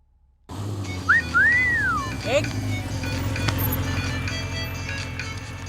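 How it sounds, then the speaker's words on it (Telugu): A mobile phone ringtone plays as a melodic, whistle-like rising and falling tune over a steady background hum, fairly close and clear, with no talking over it. "ఎవరో ఫోన్ రా."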